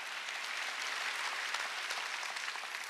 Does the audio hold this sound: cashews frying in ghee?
no